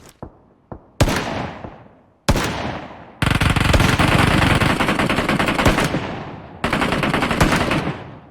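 Gunfire in the video game PUBG Mobile: a few sharp single shots, then loud sustained automatic bursts with short gaps, close and dominating, with no talking.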